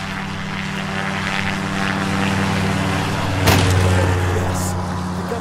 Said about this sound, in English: Oh, it's the plane!